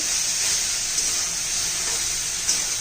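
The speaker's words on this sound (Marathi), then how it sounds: "चांगले एखादा मिनिटभर चांगली परतून घेऊया आपण हे" Red amaranth leaves sauté in a pan with a steady, close hiss and sizzle, the frying noise continuous and even, with faint stirring scrapes and no voices.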